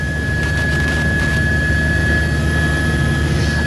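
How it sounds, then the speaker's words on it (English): Steady, loud rotor and engine roar from a news helicopter hovering overhead, a continuous throbbing drone with a high whine running through the whole stretch and no voices. "That would be the rotors from our chopper."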